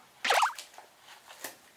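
Low-salt thousand island dressing poured onto a salad with purple cabbage, giving a short wet plop and squirt up close, then a few faint drips and a soft tap near the end.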